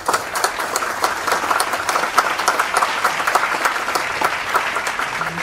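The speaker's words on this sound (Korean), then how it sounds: "우리 네 분 여러분 큰 박수로 맞아주시기 바랍니다" A crowd at an industrial complex festival gives a warm round of applause to welcome four performers onto the stage, dense steady clapping lasting the whole stretch.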